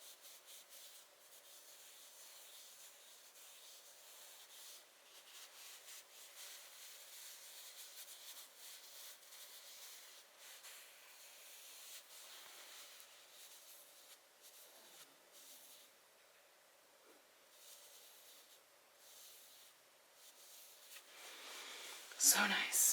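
Crushed velvet blue jeans in 100% cotton rubbed by hand close to the mic, a steady soft brushing hiss that runs on evenly, with a sharper rustle near the end.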